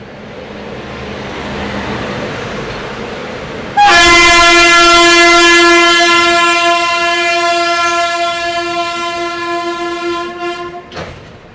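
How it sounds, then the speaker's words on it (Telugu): At Anakapalli railway station, the Visakha Express from Secunderabad to Bhubaneswar arrives, its loud, sustained horn blaring close by for several seconds over a low rumble of wheels and station ambience, then cutting off. "సికింద్రాబాద్ నుండి భువనేశ్వర్ వెళ్ళే విశాఖ ఎక్స్ప్రెస్ అనకాపల్లి రైల్వే స్టేషన్లో మీట్ అవ్వడం జరిగింది."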